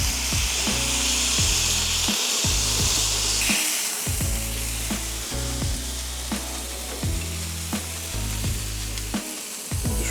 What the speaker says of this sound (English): A little bit of seasoning, onion on top, smash everything down, just like this.